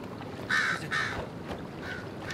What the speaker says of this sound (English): I'm scaring birds a little bit.